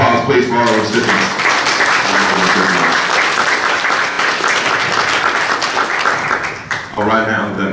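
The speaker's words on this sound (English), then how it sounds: "Another round of applause, please," An audience at a Black chamber of commerce event gives a loud, sustained round of applause, dense clapping filling several seconds before tapering, with a voice speaking briefly at the start and end.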